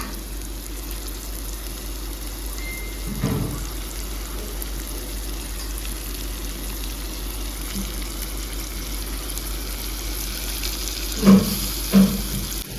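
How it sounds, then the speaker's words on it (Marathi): Water poured into a pan of prawns cooking in masala produces a steady, even wash of rushing and hissing. A couple of soft knocks near the end punctuate it, and no voices are heard. "याच्यात मग थोडस आपल्याला पाणी घालायचं आहे अगदी थोडं"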